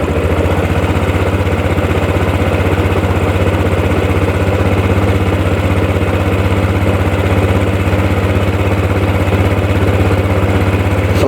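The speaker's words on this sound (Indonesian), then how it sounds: "Lalu kita tarik gas, tahan di RPM 1500 sampai 3000 di antara itu ya." Motorcycle engine warming up with the throttle held steady around 1500 to 3000 RPM, a loud, even drone that runs unbroken from start to finish with no voices.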